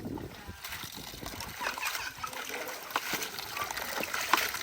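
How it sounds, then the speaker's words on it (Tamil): Seafood being rinsed in fresh water, giving faint, continuous splashing and trickling close by, with soft background noise throughout. "இப்போ நல்ல தண்ணியில் கழுவுறா நல்லது."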